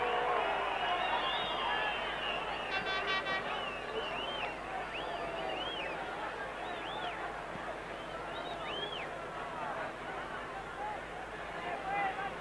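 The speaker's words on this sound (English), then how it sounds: "Crowd enjoyed that one." Football stadium crowd at the 1990 Colombia versus Soviet Union match, a broad, steady roar of distant cheering and whistles with a commentator talking over it throughout.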